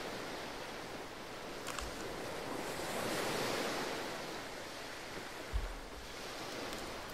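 Sea waves wash onto a beach in the video game Bravely Default 2, a soft continuous surf swelling and receding with a couple of faint low thumps, no voices.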